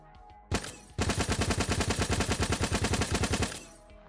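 Rapid automatic gunfire from a character's shoot animation in the third-person game Project Onyx: a single sharp shot, then about two and a half seconds of steady, loud, evenly spaced bursts that cut off abruptly.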